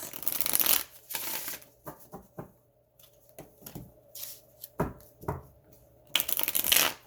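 Tarot cards being shuffled in several close, crisp bursts of riffling and flicking, separated by short quiet gaps, with no talk.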